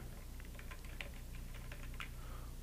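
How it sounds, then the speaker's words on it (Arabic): Fingers typing a tool name into a search box on a computer keyboard, a quiet run of light irregular key taps close by over faint background hum, with no voice. "بقدر انا اكتب اسم الاداة عن طريق البحث"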